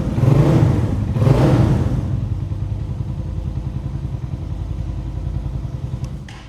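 Hi-Speed SR150 motorcycle engine revved hard with two sharp throttle blips, then settling into a steady, rumbling, close-up engine note that fades slightly toward the end.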